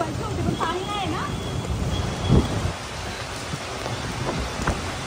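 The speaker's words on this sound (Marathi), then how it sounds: "ह्या पाऊस आला ना" Heavy monsoon rain pours outside a busy shopping store on a Saturday, a constant broadband hiss with occasional rumbles, while people talk nearby over it.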